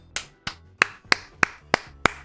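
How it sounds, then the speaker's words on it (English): A single person claps seven times at an even, steady pace, each sharp clap close and distinct against a quiet background, with no voices. "Round of applause, ladies and gentlemen."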